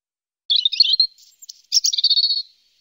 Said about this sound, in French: elle entendit des cuicuis mélodieux entre les aiguilles des résines